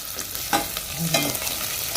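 Onions sautéing in hot tempering oil with garlic and curry leaves, stirred in a pan for ragi mudde greens saaru; a steady soft sizzle with a few stirring scrapes, close by and alone.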